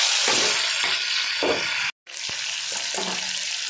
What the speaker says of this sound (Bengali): তেলে জিরে, শুকনো লঙ্কা, তেজপাতা ফোড়ন দিলাম